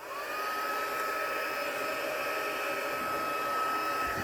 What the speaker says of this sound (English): Just going to use the heat embossing tool.